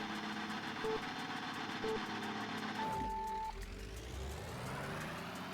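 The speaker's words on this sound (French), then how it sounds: "Avant de faire péter le platine, on peut essayer le tracteur, voir ce que ça donne." Game tractor engine from the racing video game Old School Rally, a steady droning motor with tonal beeps and whines, revving and shifting pitch midway as the vehicle drives and drifts, loud and close with no talk.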